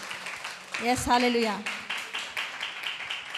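A church congregation at a youth service in an Assemblies of God church claps in a steady, even rhythm, with a voice calling out over the claps.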